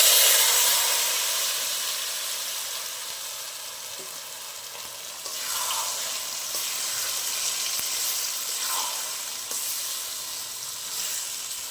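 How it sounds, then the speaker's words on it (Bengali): A moist spice mixture hits hot oil with fried whole cumin and mustard seeds, a loud bright sizzle that hisses continuously, with stirring scrapes and bursts of renewed frying. "আমার ফোড়নটা ভালো ভাজা হয়ে গেছে, এবার আমি মেখে রাখা মিশ্রণটা একসাথে করে দিয়ে দেবো।"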